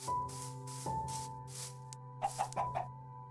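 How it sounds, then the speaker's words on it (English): A chicken in the video game Minecraft, in a snowy cave with cherry blossoms, gives several short clucks near the end. Earlier there are soft bursts and a steady tonal game hum. "Oh, that's an interesting chicken."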